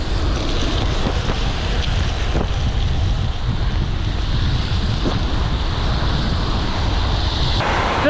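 Steady, loud wind roar buffeting the microphone while cycling fast with a pushing tailwind, a continuous rushing blast throughout with no speech.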